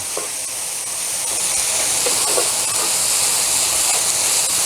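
Potatoes tossed in a hot pan with soy sauce and sesame oil set off a loud, steady sizzle and hiss that builds slightly, with faint tossing clatter and no talking.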